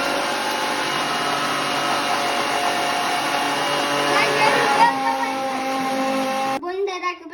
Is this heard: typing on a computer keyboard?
no